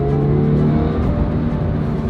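A Toyota GT86 drives out of a shed, its engine note a loud, steady hum with layered harmonics. The tone holds constant through the short stretch.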